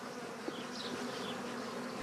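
Honeybees buzz steadily around hives in a Greek apiary, a continuous low insect drone with a soft hum throughout and no voices.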